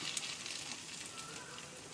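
Garlic and egg mixture hits a hot frying pan in a home kitchen, giving a steady, close sizzle with soft crackle that holds evenly throughout, no talking.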